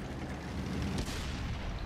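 A single heavy tank-gun blast in the online game World of Tanks booms out mid-clip over a low rumbling game background, then fades.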